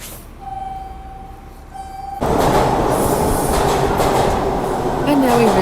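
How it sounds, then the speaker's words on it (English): Toronto TTC Line 2 subway train heading westbound. A quiet hum with a faint tone gives way to a loud, close rush of the moving train, with rumble and rising wheel squeal. "And now we've entered into the subway to head westbound on line 2."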